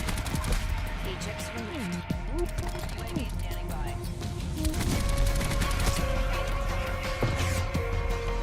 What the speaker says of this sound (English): you feel really comfortable when shooting the Peacekeeper continuously